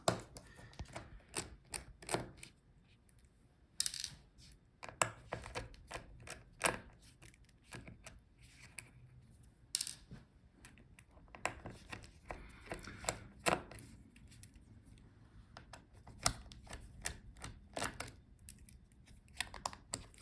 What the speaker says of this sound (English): Now take out all the screws on the edges.